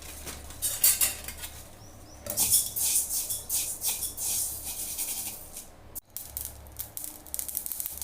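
Dense crackling and popping from mustard seeds roasting in a dry pan, a continuous busy patter with occasional louder bursts, close by.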